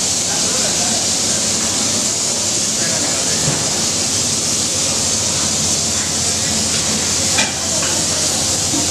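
Onions fry in a large pot of hot oil for Hyderabadi chicken dum biryani, a loud, constant hiss and sizzle throughout, with a voice talking over it.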